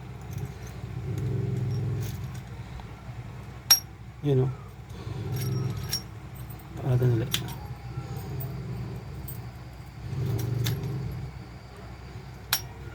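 Metal keys jingle and clink in short bursts while a cylinder door knob set is installed, close and fairly loud, under a steady low hum with someone speaking briefly between the jangles.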